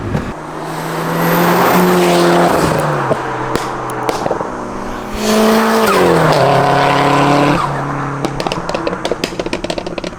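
A 600hp Subaru Impreza STI running on ethanol or a Lancer Evo 9 roars loudly, revving up and down through gear changes with tire squeal, then easing off into a steady drone.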